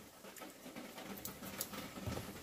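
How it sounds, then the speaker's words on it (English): Rain patters outside during a flash flood watch, a faint, steady spatter of soft irregular taps heard from indoors with no other sounds. "It's just raining."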